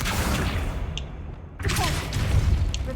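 A Confringo blasting spell goes off in Hogwarts Legacy as a dense, booming burst mixed with whooshing game effects and rumbling background sound.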